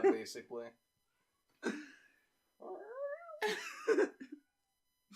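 A cat yowls in a rising, wavering cry between bursts of nearby conversation, the meows cutting in over the voices.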